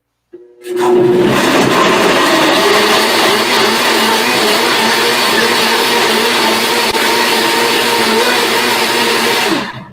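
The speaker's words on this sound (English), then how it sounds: "For those of you who do the blender dance, get ready." A blender runs loud and steady for nearly ten seconds, whirring through plants for a digestive juice, starting up abruptly and cutting off at the end with no talking.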